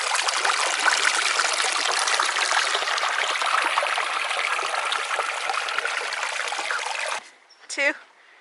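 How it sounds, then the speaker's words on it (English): A waterfall in Eaton Canyon roars as a loud, steady rush of falling water close by, running continuously before cutting off near the end, with a brief voice after it. "Look at that waterfall."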